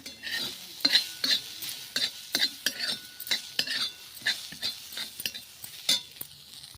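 Onion being roasted and stirred in a pan for a Maharashtrian usal dish, with a series of sharp scraping and clinking spoon strokes against the pan in an uneven rhythm, close and clear with no talk.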